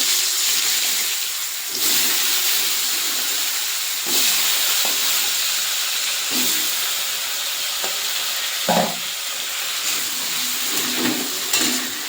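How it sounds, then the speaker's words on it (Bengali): Potatoes frying in oil left over from frying katla fish heads give a steady, loud hiss and sizzle throughout, with a few brief clinks and light stirring knocks breaking in now and then. "সবগুলো যে মাছের মাথা ভাজা হয়ে গেছে, এই তেলে আমি আলুটা ভেজে নেব"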